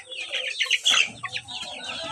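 A cluster of chicks cheep and peep in rapid, high-pitched overlapping calls, close by and continuous.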